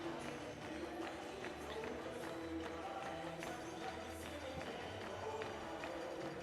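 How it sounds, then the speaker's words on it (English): A French stadium crowd cheering and chanting during para climbing finals in Laval, a sustained mass of distant voices with rhythmic claps and stamps pulsing through, steady and loud throughout. "listen to that crowd chant in the stadium"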